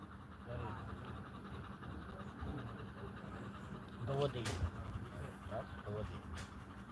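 A hot dog pants steadily in a moving vehicle during a rest stop in the countryside, quick breaths running under low road or rail rumble, with a few louder sounds near the middle.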